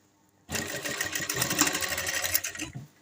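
A sewing machine runs steadily for a couple of seconds, stitching the edge of a folded cloth neckline, with a rapid even whirr that starts abruptly and winds down at the end, close and alone.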